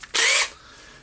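A Makita 18V DDF453 cordless drill in drilling mode whirs in one short, loud burst of about a third of a second, then winds down, with no talk.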